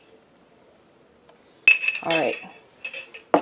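A long iced teaspoon clinking against a glass, a few bright close chimes and rattles in quick bursts after a quiet start, with a brief spoken remark among them.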